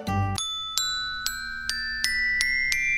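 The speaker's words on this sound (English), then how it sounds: "The Glockenspiel has metal bars that you hit with special little hammers to make the lovely chime-like tone it's known for." Glockenspiel metal bars struck with little hammers: a low opening note, then a series of bright, bell-like single strikes at a steady pace, each ringing on with a long shimmering decay, clear and close.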